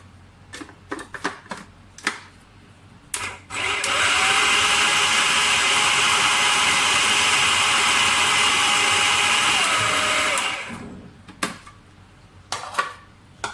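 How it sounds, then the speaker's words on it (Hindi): An electric food chopper whirs loudly and steadily for about seven seconds as it chops a potato mixture, with short clicks and knocks before and after the run. "पहले मैं थोड़ा सा चॉपर ऐसे चलाऊँगी"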